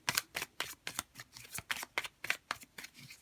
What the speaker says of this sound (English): So let's see if we can get a few cards here.